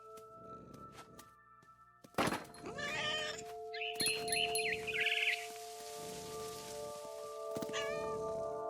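A cat meows in the video game What Remains of Edith Finch, with several short calls over soft rain and sustained musical tones.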